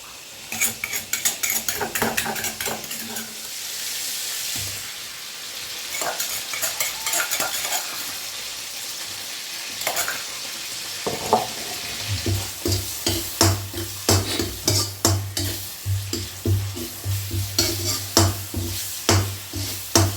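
Food stir-fried in oil in a pan, loud sizzling with rapid rhythmic scraping and clanking of a utensil against the pan, growing busier and more intense in the second half, close up.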